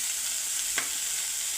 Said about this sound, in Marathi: तूप गरम झालं, आपण त्याच्यामध्ये मेथी घालून घेऊया।